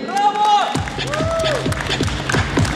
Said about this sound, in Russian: Аплодисменты для них!